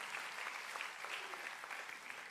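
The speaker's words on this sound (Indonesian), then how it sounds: "Berikan tepuk tangan yang meriah buat itu." A church congregation claps in a steady, even burst of applause, heard faintly and at a distance with no talk over it.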